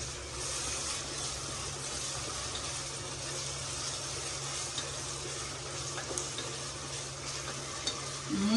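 Ginger garlic paste sizzles and fries steadily in a hot pan while being stirred, a close, continuous crackling hiss with occasional scraping, no voices.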